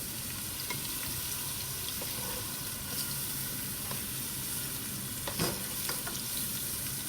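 Vegetables for a quick pasta salad heat in a pan on medium-low with a steady, soft sizzle and occasional light scraping clicks from stirring.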